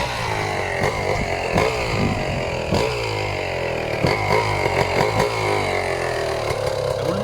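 GasGas EC 300 supermoto two-stroke motorcycle engine running close up, a loud continuous raspy drone with repeated sharp blips of revving throughout.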